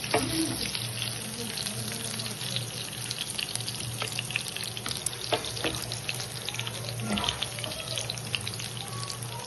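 Chicken pieces fry in a pan, sizzling steadily with crackling spits and pops, close and continuous with a faint hum beneath.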